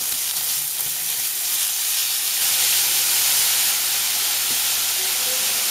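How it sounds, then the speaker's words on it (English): Pork frying in a pan as filling for stuffed squid, a loud, steady sizzle and hiss of cooking meat, close and continuous throughout with no talk. "Right now, I'm just cooking the pork."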